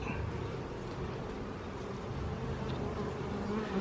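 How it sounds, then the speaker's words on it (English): Honey bees drone around an open hive during a late-summer inspection, a dense steady buzz close by with no one speaking. "Be careful, don't roll too many bees on the edges."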